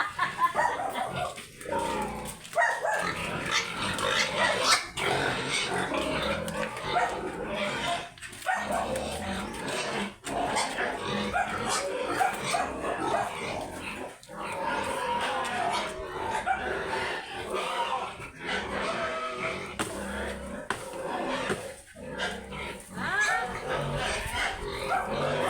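Pigs on a rural Philippine farm at feeding time, a busy continuous mix of grunts, squeals and animal noise close by, with dog barks and yips cutting in and a voice talking now and then throughout.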